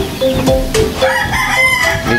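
A gamefowl rooster crowing close by in a single loud, drawn-out call with a rising then falling pitch, accompanied by clucking from other birds nearby.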